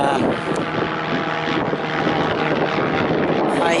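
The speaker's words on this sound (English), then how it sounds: "That's quite a busy airport. The planes are taking off every few minutes" A plane takes off from a busy airport, its steady engine roar heard from a distance as a broad, continuous drone with no talk over it.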